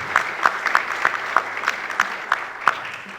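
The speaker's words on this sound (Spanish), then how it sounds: "Merecido aplauso, ¿no?" Applause from a panel session audience at a justice and democracy conference, a steady patter of many hands with sharper individual claps standing out, moderately loud and continuous throughout.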